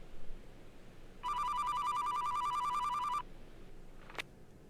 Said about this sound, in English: When I was first hearing the phone in the beginning